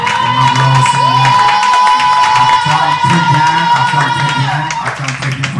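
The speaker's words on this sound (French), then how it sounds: "nous allons les manifester par nos acclamations en donnant gloire au Seigneur" A congregation at a French-language Catholic service cheers, whoops and claps in acclamation, loud and sustained throughout with shouting voices mixed in.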